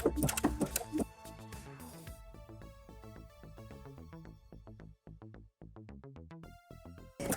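Sewing machine stitching a blind hem on knit fabric with contrasting thread: rapid, close mechanical clicking in steady bursts that speed up and slow down, with no talk over it.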